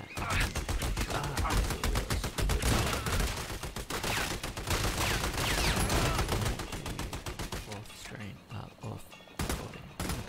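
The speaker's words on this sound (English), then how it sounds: "Trying to aim for those headshots with the PKR." PKR machine gun fire in the Xbox One game Army of Two: loud, rapid automatic bursts fire almost continuously, then break into shorter, choppier volleys toward the end.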